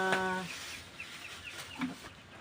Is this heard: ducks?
yes